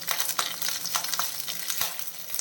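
Mustard seeds, urad dal and curry leaves crackle and sizzle in hot oil in a pan for a raw jackfruit dish, a dense, steady frying hiss with sharp popping bursts scattered throughout, close up and with no voices.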